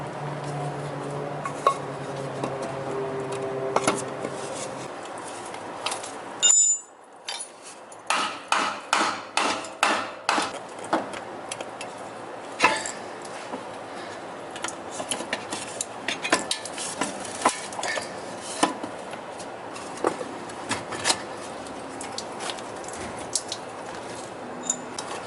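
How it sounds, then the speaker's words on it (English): Metal tool clanks and a run of sharp knocks as brake calipers on a 1989 Chevy Astro are spread and pressed in, with a steady hum under the first few seconds and scattered clicks and taps afterward, close and fairly loud. "we're gonna heckin' spread these calipers"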